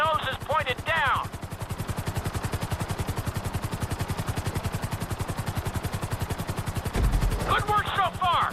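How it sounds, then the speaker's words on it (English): In Grand Theft Auto V flight school a helicopter flies at full speed with a fast, even rotor chop that runs throughout. A voice talks over it briefly at the start and again near the end. "To maximize acceleration, keep the nose of the helicopter tipped."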